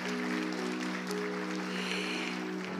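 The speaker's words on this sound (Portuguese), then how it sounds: "Não aplauda assim, bem forte." Broad, full applause from a church congregation fills the space, loud and continuous, with a steady tone or hum sustained underneath.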